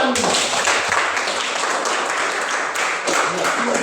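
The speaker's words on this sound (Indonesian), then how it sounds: "Luar biasa, kita beri tepuk tangan." A room full of people applauds in a thick, continuous round of clapping that stays loud and even throughout, with a few voices mixed in.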